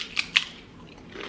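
Two quick crisp bites into crunchy pita chips, sharp close cracks followed by quiet, with no talking.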